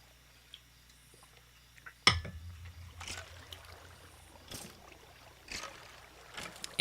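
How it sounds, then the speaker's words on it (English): Water flows and splashes in a Minecraft witch cave. A soft, low running-water murmur follows a sudden sharp splash, and several brief sloshing bursts come and go at moderate distance. "Oh, water. I love when water helps me out."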